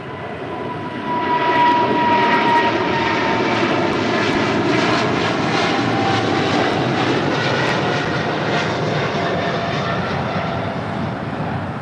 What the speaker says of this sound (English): That was China Airlines Cargo 5224 headed out to Miami on a 777 freighter